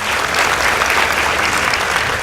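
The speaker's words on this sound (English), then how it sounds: "Please give them a round of applause." Studio audience applauding a girls' school debate team after the judges announce its score, a dense, steady burst of clapping filling the room without a break.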